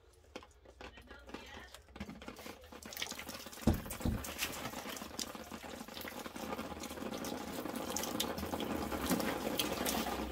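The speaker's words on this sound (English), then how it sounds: "The water that I pour on pulls in straight away" Water pours steadily onto the soil of a freshly repotted Cape beech bonsai in its pot, a trickling, splashing stream that starts faintly, then grows louder and denser as it soaks in and drains out.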